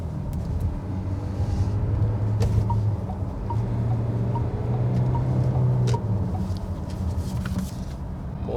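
SsangYong Korando SUV merging onto a highway, steady engine drone and tyre rumble from inside the cabin, with the engine note swelling and holding as it accelerates.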